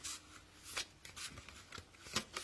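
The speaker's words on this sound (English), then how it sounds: "I'm going to do a good shuffle. These cards are very big." Large oracle cards being shuffled by hand, a close, quiet series of soft riffling swishes and flutters in uneven bursts, with no talking.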